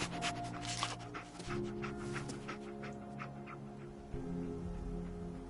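Dogmeat, the canine companion in Fallout 4, pants steadily and gives faint whimpers over a continuous game soundtrack drone with soft rain-like noise in the background.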